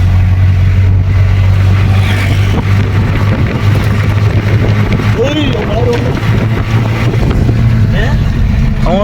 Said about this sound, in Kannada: ಗಾಡಿನ ಟೋ ಮಾಡ್ಕೊಂಡು ಹೋಗ್ತಾ ಇದ್ದೀವಿ ನೋಡಿ.